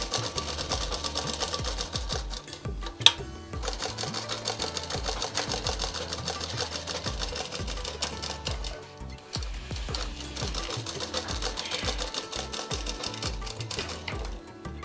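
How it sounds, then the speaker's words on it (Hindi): A sewing machine running a half-inch double stitch along the shoulder seam of a plain frock, a close, continuous rapid clatter with steady rhythm and no talking. "इस तरह से 1/2 इंच की सिलाई हम डबल सिलाई पे दे देंगे।"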